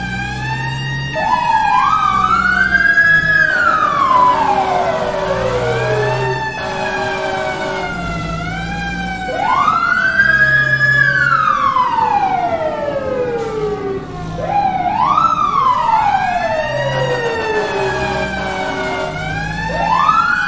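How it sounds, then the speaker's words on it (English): A PA-300 electronic siren on an FDNY fire engine in Manhattan wails loudly and close, sweeping up and down in three repeated cycles, with a low rumble beneath. "So here's the PA-300 siren I was telling you guys about."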